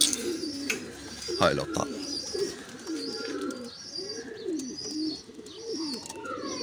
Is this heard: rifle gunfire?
no